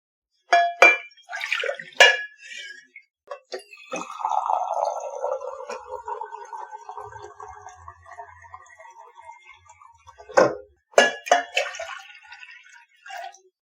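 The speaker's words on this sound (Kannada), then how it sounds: "ನಾನಿವಾಗ ಈ ಪಾತ್ರೆ ಒಳಗೆ 2 ಲೋಟ ನೀರು ಹಾಕ್ತಾ ಇದ್ದೀನಿ" Two glasses of water are poured into a cooking pot for Maggi noodles, a gurgling stream running several seconds between sharp metallic clinks and clanks of the vessels, close up and quiet otherwise.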